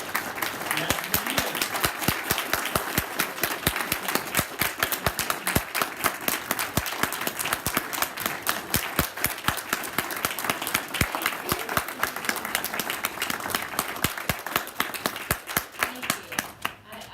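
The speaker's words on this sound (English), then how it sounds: "let's bring her up today with a warm round of applause" Warm, sustained clapping from an Ada County GOP meeting audience welcoming the Lieutenant Governor, crisp individual claps standing out within a steady crowd rhythm, fairly quiet in level and lasting well over fifteen seconds.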